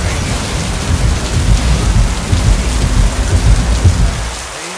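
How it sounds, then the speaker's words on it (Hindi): Heavy rain pours steadily in a dense hiss over Pichavaram Mangrove Forest, with low thunder rumbling beneath it throughout. "देख रहे हो कितनी हैवी बारिश हो रही है भाई।"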